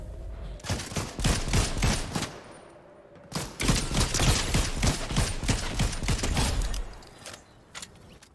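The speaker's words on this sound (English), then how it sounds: "we immediately start getting shot in the back." Rapid bursts of gunfire from the video game Fortnite rattle loud and close, with dense volleys broken by a brief lull before the shooting resumes.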